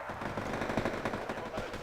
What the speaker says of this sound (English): As more stupid artillery comes in.